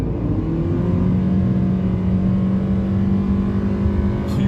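A 2022 Renault QM6 running on LPG accelerates hard at full throttle, heard from inside the cabin as a steady, droning engine roar with a slowly rising tone and road noise. No one speaks.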